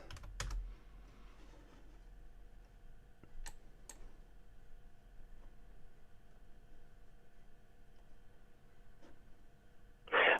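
Typing on a computer keyboard, scattered quiet key clicks with a few sharper taps, close and fairly faint against a low background hum, ending with a louder clatter.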